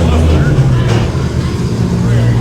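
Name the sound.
drift car engine revving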